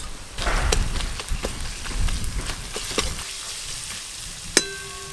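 Ginger garlic paste sizzling in hot oil with fried onions: a close crackling sizzle with scattered stirring taps and one sharp metallic clink near the end.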